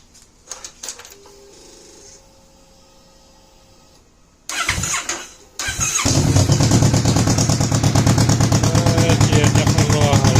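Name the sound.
Kawasaki Vulcan S motorcycle engine with aftermarket AliExpress exhaust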